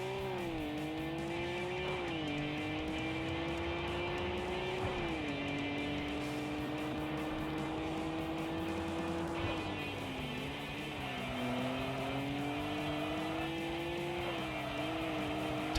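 A racing car in the PS2 game Tokyo Xtreme Racer 3 drones on with a continuous engine whine that rises and dips with gear changes, mixed with tire squeal.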